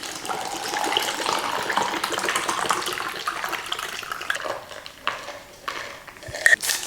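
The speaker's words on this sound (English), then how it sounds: "once it's ready, you can pour it in." Bubble tea pours into a cup in a steady stream that thins out toward the end, followed by a few small clinks and drips.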